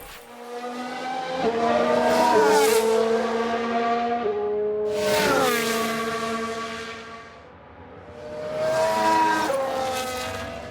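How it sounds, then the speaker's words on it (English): Formula One cars in the F1 Manager 22 racing game, 1992 season: screaming engines rise and fall in three sweeping passes, with tyre squeal and skidding, loud and close, no talk. "Sounds like a few cars have crashed."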